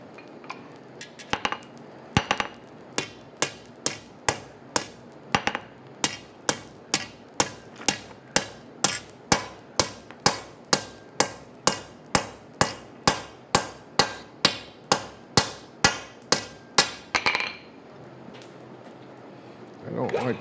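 Hot steel is hammered by hand at a forge: a long, steady series of about thirty sharp metallic strikes in an even rhythm, close and ringing, followed by a brief pause.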